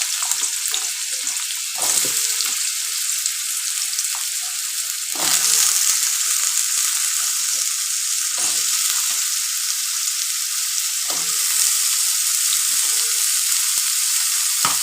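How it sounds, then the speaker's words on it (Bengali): Potatoes frying in a pan of oil for a pumpkin and potato curry, giving a steady, close, loud sizzle with brief stirring scrapes and no talking. "এই আলুটা তুলে দিলাম আলুটা এবার ভাজতে থাকবে"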